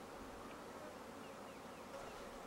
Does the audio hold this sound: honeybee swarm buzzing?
yes